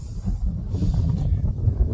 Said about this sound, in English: You can see it's windy. You can probably hear it too.